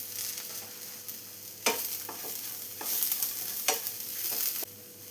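Fenugreek and curry leaves fry in oil in a pan for Kerala sadhya sambar, a soft continuous sizzle broken by several sharp stirring scrapes of a spoon against the pan, close and without talk.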